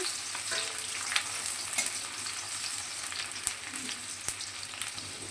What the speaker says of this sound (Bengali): তো পেঁয়াজ ভাজা হচ্ছে